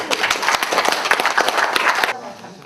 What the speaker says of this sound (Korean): 먼 곳까지 와서 강의해주신 이청수 교수님께 다시 한번 뜨거운 박수